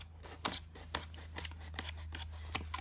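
Scissors cutting cardstock for a tone-on-tone card, a series of crisp snips at roughly half-second intervals, close and clear over a low hum.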